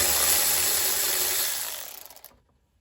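A ratchet wrench turns out 10 millimeter bolts on a 1995 Ford F150 pickup, giving a quick run of close mechanical clicks that slows and fades into silence.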